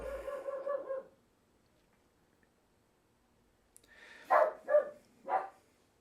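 A dog barks three times in quick succession, close and fairly loud, after a stretch of near silence that follows a brief earlier sound.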